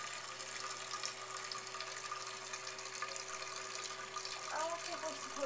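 A 1984–1986 American Standard Cadet toilet tank with a standard flapper valve refills with a constant, moderately quiet hiss and trickle of running water, with brief watery splashes near the end.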